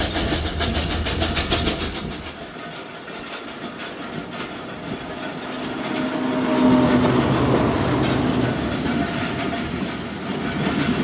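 The Zakariya Express rumbles steadily past Kotsamawa, with a continuous rolling roar of wheels and carriages that swells midway and stays loud throughout, with no voices.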